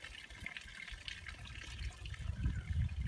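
Spring water flows from a fountain at a mountain source, a steady soft trickling with splashes that grow louder and more bubbly toward the end.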